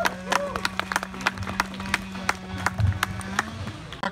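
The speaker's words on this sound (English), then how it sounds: "Let's give our Sawyers a big hand." Scattered clapping and crowd applause for sawing contestants rise from an audience at Frontier Days in Fort Dodge, Iowa, with uneven, spaced-out claps over a low murmur and a steady background hum.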